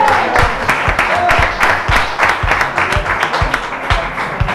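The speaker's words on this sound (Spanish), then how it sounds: "Otro aplauso, don Miguel, ¿no?" Rhythmic group clapping from an audience at a Three Kings association gathering, close and fairly loud, with sharp individual claps standing out over the steady applause.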